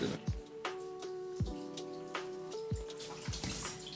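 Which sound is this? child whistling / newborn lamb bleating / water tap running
water tap running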